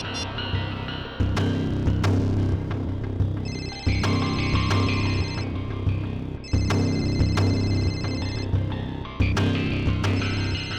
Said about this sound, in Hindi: और ये जो बेल बज रही है, इसी नंबर से फोन आया था।